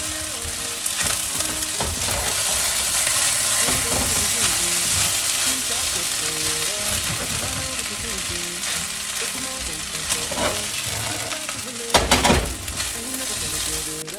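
Thai basil fried rice with prawns sizzles and hisses steadily while being stir-fried in a hot pan, with scraping stirs throughout and a brief louder clatter near the end.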